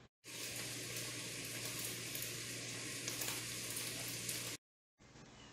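Ground beef and ground turkey fry with chopped garlic and onion in a pot, giving a steady, close sizzle that runs unbroken for several seconds before cutting off, then briefly resumes.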